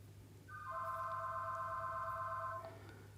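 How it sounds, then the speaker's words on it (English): A telephone rings once with a steady multi-tone electronic trill lasting about two seconds, moderately faint against a low hum, in a quiet room where miniatures are being painted. "Phone's ringing."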